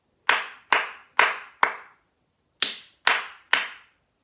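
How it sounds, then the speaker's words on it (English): Hands clap a rhythm in a music lesson: four crisp, evenly spaced close claps, a short pause, then three more, each sharp and isolated against silence. "Now let's clap it without saying it."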